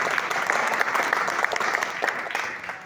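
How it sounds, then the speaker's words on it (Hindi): Audience applause at an awards or achievers gathering in Kannauj, a dense steady wash of many hands clapping throughout, moderately loud and close, with no speech on top. "मैं चाहूँगा सर के लिए एक बार जोरदार ताली होनी चाहिए"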